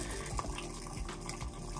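Tap water runs to wash rice in a home kitchen, a quiet, steady stream pouring and splashing throughout.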